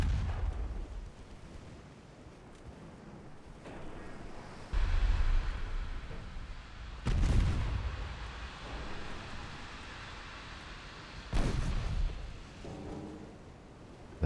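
Naval guns boom and torpedoes strike ships in a 1918 battlecruiser engagement in Ultimate Admiral Dreadnoughts, with several heavy, widely spaced blasts rising out of a low, rumbling ocean-battle background.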